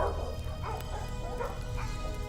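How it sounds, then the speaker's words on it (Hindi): Several dogs bark in short, repeated bursts at a moderate distance, over a steady low engine rumble. "कुत्तों की भौंकने की आवाजें फिर सुनाई दी"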